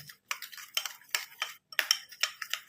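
A spoon stirs a tomato and lemon face pack mixture in a small bowl, making quick, light, rhythmic scraping clicks in a tight series, close and fairly quiet with short gaps.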